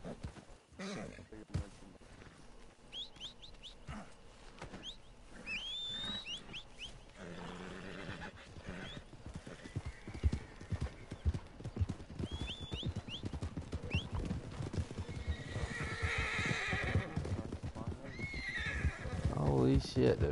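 In a video game, a horse whinnies in high, wavering calls while hooves clip-clop in a rapid, uneven patter, close and growing louder. Someone talks excitedly over the sounds.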